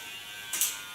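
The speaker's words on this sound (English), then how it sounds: "Take only the tip of my clipper and clean the contour." An electric hair clipper hums steadily, then its tip briefly touches hair to clean up the contour of a haircut, giving a short raspy buzz in the middle of the second-long stretch.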